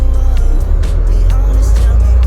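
A car driving along a road, heard from inside as a loud, steady low engine and road rumble with faint tyre hiss, and a voice speaking briefly over it.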